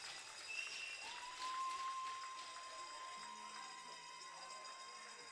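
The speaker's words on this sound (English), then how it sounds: "And you can hear the crowd here in Brentwood." Crowd noise in the stands at a junior lacrosse game in Brentwood after a goal, a diffuse cheer and clapping under steady arena hum with a sustained horn-like tone.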